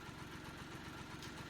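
A John Deere 1025R compact tractor idles in Farming Simulator 19, its engine a steady, even low rumble with a faint regular throb, close and unbroken, with no talking.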